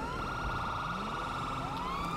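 Wailing police sirens from player vehicles in GTA 5 Online ring out steadily and close, overlapping rising and falling tones over engine rumble for the whole stretch.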